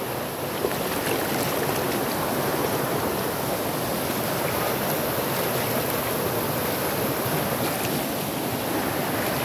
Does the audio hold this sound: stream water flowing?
yes